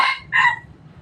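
A labuyo mestizo rooster crows close and loud, two sharp bright bursts of its call in quick succession before fading to quiet.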